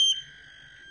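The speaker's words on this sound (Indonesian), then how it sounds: "dia akan berbunyi, buzzer akan berbunyi" Piezo buzzer on a homemade rain sensor circuit sounding when the sensor is touched, a sharp high electronic tone that starts loud, then settles into a steady continuous whine.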